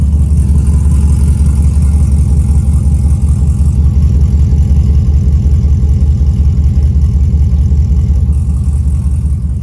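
GMC Yukon fitted with a new exhaust running close by, a loud, steady, deep throbbing engine rumble with an even pulsing rhythm throughout.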